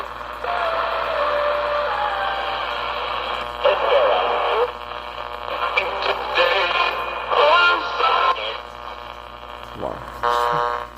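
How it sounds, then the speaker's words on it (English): A Philips 90RL050 transistor radio, repaired after a shorted capacitor and aging electrolytics, gives off a steady hiss and buzz of interference with faint talk, fluctuating crackles and a low hum, heard close throughout. "now it's starting to pick up interference."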